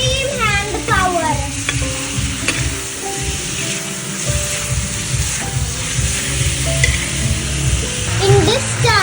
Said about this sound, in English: And mix it with extreme hand power.